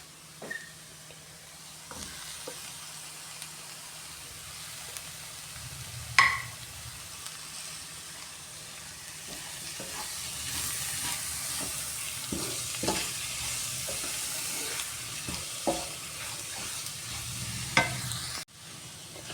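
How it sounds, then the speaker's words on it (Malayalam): Chopped tomatoes fry and sizzle in a pan while being stirred for a chicken roast, with a steady hiss throughout and occasional clinks and scrapes of the spoon against the pan. "ഇനി ഇതിലേക്ക് ഈ വലുപ്പത്തിലുള്ള രണ്ട് തക്കാളി അരിഞ്ഞത് അതിലേക്ക് ഇട്ട് കൊടുക്കാം"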